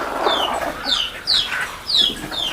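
Free-range hens on a poultry farm cluck in short repeated bursts, a handful of close, rising calls over a steady farmyard background, with no talking.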